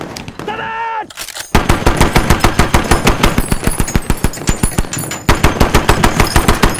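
A .50 caliber machine gun fires in long, rapid, loud bursts of sharp cracks in a war-film battle, starting after a brief tonal sound and continuing almost without pause.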